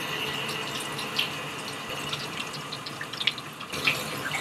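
Water sloshes and gurgles in a clogged drain being plunged, with a quiet running-water wash and scattered small splashes and pops.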